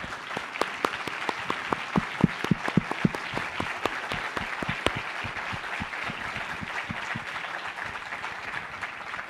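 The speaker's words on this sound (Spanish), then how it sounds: "para Fernando Villavicencio, no para el presidente, un aplauso." Applause from a crowd at a press freedom anniversary event, dense and steady, with sharper individual claps early on before settling into a sustained wash of clapping.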